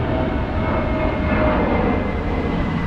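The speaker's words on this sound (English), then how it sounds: "There's another plane." An airplane passes overhead, a loud steady roaring drone that fills the whole stretch without change, heard alone with no talking.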